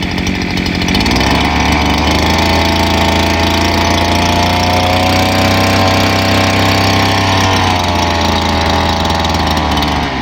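A farm machine's engine runs steadily and loud after starting, still settling as it warms up, with a constant low drone and a faint ticking rhythm and no speech.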